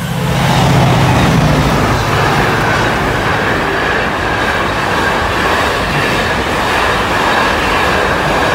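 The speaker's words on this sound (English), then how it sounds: "there's a diverted freight train from the West Coast Main Line" A diverted freight train hauled by class 68 and class 88 locomotives rumbles past a level crossing loudly and steadily, with heavy low roar and rhythmic wheel clatter filling the whole stretch.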